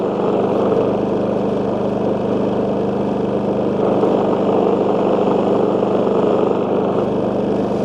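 WEN 4800W dual fuel generator running with a loud, steady engine hum close by while it is lifted slightly off its rubber feet, its tone shifting a little midway, with no talk.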